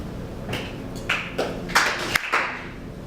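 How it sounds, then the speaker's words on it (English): Audience members at a lecture on time perception clap to reproduce a ready-set interval, producing several scattered, loosely synchronized claps with short gaps between them. "then you try to clap right in time to reproduce that ready set interval"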